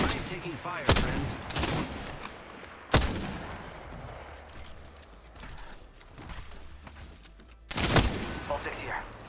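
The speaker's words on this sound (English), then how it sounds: "I am taking fire, friends." Apex Legends gunfire comes in scattered sharp bursts of shots with mechanical clatter between them, loud and close, while a player talks over parts of it.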